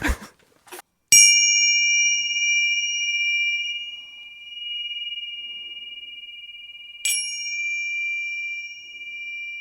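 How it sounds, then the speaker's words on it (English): A chime struck twice during a Sunday service: a bright ringing strike with a long sustained tone, then a second strike several seconds later that rings on; a few faint knocks come before the first. "I forgot to get the chime, so I'm just going to go get it."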